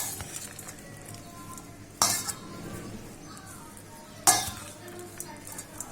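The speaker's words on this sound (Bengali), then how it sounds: "আমি চামচ দিয়ে মাখাচ্ছি।" A spoon stirs and mixes chopped onions with spices for a Bengali grated mango pickle, giving soft continuous scraping with two sharper clinks against the bowl, close and alone.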